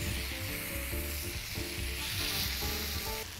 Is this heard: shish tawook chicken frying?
yes